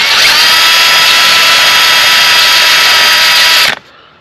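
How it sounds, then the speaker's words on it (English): A power drill whines loudly and steadily at close range while boring a hole through a utility trailer, then stops abruptly after nearly four seconds. "I'm going to drill a new hole,"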